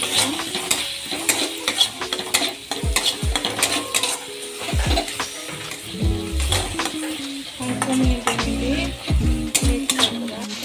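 Spices including Kashmiri red chili powder mixed and fried in a pan for aloo dum, with busy spoon scraping and clinks against the pan over a steady sizzle, close and fairly loud.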